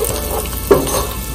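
Garlic cloves and butter sizzle in a pan while being stirred, a close, steady frying hiss with a brief scrape of the utensil partway through.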